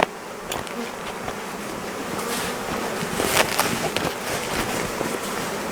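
Honey bees swarm during a hive installation, making a steady, dense buzzing close by with a few louder passes of individual bees, and no voices.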